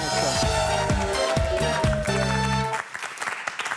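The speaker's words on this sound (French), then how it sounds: "Applaudissez Jean-François et Constance." Applause from a television studio audience on a French dating game show, loud and steady under a bright band of music for about three seconds, then thinning into scattered claps.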